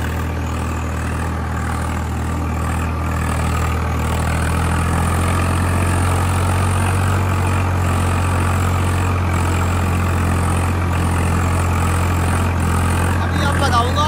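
Swaraj 855 5 Star 4x4 tractor engine running steadily at close range, a loud, continuous low diesel drone with no breaks.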